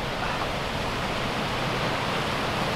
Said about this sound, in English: I hope you can hear me over the water.